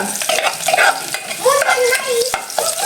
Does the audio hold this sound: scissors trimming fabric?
no